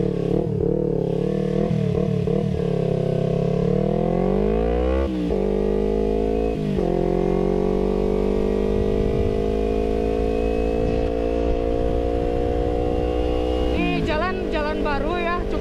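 A remapped Kawasaki Ninja 250 FI motorcycle engine revs loud and close, its pitch climbing in long sweeps with a few quick blips and drops, a sustained high-rev wail dominating throughout.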